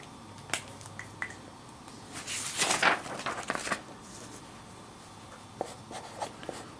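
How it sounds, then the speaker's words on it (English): Handwriting an answer down by hand during a financial calculator lesson: a quiet cluster of short scratchy pen strokes in the middle, with a few faint isolated taps before and after, no talking. "I'm just going to go ahead and write that down."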